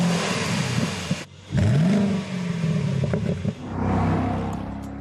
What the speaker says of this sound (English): The sound of the motor is rich and full